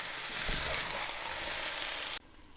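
Sweet potato hash with onions sizzles steadily in a pan, a close, even frying hiss that cuts off abruptly near the end.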